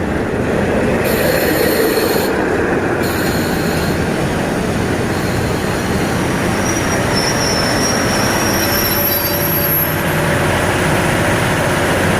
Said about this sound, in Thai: รถไฟจากญี่ปุ่นนะครับ